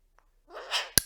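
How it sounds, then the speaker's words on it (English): A dog named Izzy sneezes on command, a single short, close sneeze preceded by a faint sniff and breathy intake, with a sharp click-like burst at the end. "I've just been teaching Izzy how to sneeze when I tell him to"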